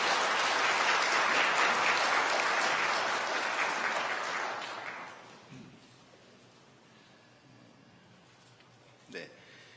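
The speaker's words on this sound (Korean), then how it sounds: "여러분들 환영의 박수 부탁드립니다." A church congregation gives welcoming applause at a Sunday worship service, a dense burst of clapping for about five seconds that fades out into quiet room tone, with a brief knock near the end.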